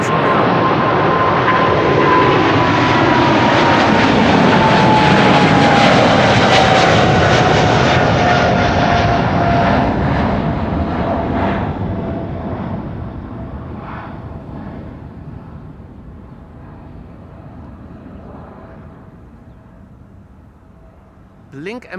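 A China Southern Cargo Boeing 777 freighter roars down the runway at Amsterdam Schiphol, a loud sustained jet engine rumble with a descending whine that slowly fades as the aircraft climbs away.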